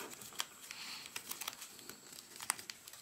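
Paper crinkles and crackles as it is creased and folded for an origami jumping spider, a close, quiet run of small crisp clicks and rustles with no talking.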